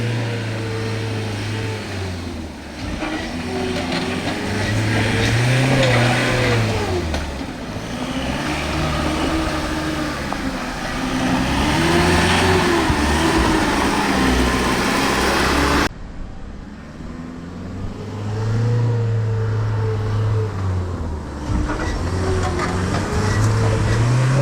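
Fuso Canter 4x4 truck driving offroad, a low diesel drone that rises and falls as the engine labours and eases over rough ground, heard from inside or nearby over about twenty seconds.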